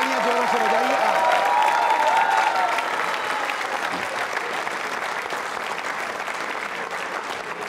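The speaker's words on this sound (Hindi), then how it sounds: "प्रधानमंत्री जी के लिए तालियां जोरों से बजाइए आप" A large audience at a Yoga Day quiz show applauds the Prime Minister with loud, sustained clapping that fills the space, a voice briefly heard over it at the start before the ovation settles into a steady roar.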